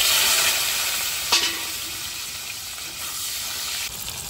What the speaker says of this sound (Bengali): জিরা ফোড়ন দিচ্ছি। এবার আলুটা দিয়ে দিচ্ছি।